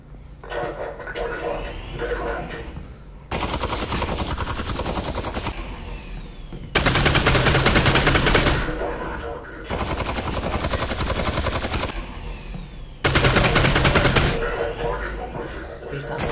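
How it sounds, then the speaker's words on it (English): Minigun fire in the VR shooter Half-Life: Alyx, loud sustained rattling bursts that cut in and out several times, with a steady drone between them. "Sounds like a minigun."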